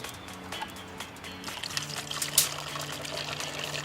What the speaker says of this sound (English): simply fill clear plastic or glass containers with your water